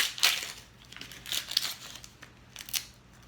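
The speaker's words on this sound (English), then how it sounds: "I have my onion right here, and we're just going to go ahead and peel it" Onion skin being peeled off by hand: a handful of short, close crinkly crackles and papery tears in uneven bursts, with no talking.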